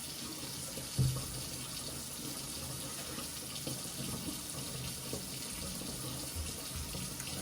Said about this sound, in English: I like to rinse them 3 times to get all the dirt off of them.